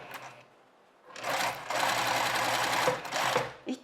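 A sewing machine runs steadily and close, stitching fabric along a seam allowance, with a soft start, a sustained whirring hum for about two seconds and a short final burst.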